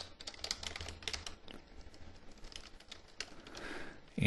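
Rapid typing on a computer keyboard while web form code is entered, a quick flurry of soft, close key clicks that thins out midway and picks up again, ending in a brief louder thump.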